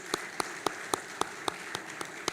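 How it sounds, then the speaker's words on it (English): Sharp, evenly spaced claps at the MTN 25th anniversary launch event beat out a steady rhythm of about four per second, clear and close, over a soft background wash. "A resounding round of applause."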